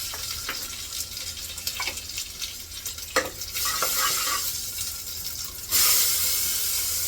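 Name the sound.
oil tempering sizzling with mustard seeds, cumin, crushed garlic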